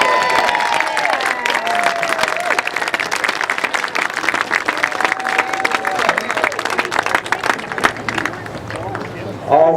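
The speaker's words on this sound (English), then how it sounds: "Let's give them one more round of applause" Crowd applause at an outdoor Fukushima remembrance rally near San Onofre, sustained clapping and some cheering through the whole stretch, with a speaker's amplified voice over it and crowd chatter underneath.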